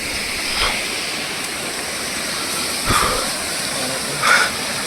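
Waterfall at the Agathiyar temple in Kanyakumari, seen from its top end: a steady, close broadband roar of falling water that runs unbroken throughout, with a few brief splashy bursts rising above it.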